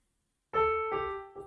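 Keyboard notes from a song melody from Tamasha, played alone as three clear sustained tones, each new note entering after a short pause.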